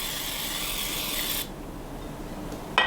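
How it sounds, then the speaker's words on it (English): Non-stick cooking spray hisses steadily for about a second and a half as it lightly coats a 9-inch bread dish, then cuts off, leaving quiet room tone and a brief clatter at the end. "Just take some non-stick cooking spray and lightly coat the bread dish."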